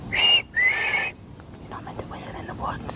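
Person whistling in the woods: two clear, sustained, high whistles, the second slightly longer, followed by quiet rustling and faint breathy sounds in a still forest.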